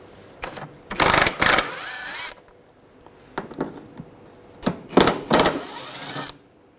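A socket wrench on a Mercedes-Benz E350 of the 2006–2009 years removes nuts during rear ABS sensor work: bursts of rapid metallic ratchet clicking, close and crisp, in several groups with short pauses.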